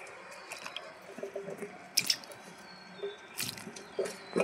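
Ginger being washed in water, with soft wet squishing, dripping and splashing in irregular bursts, close and quiet.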